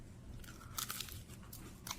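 Close, crisp crunches of teeth biting and tearing into salt bread baked golden brown with plenty of butter, a few sharp cracks in quick succession.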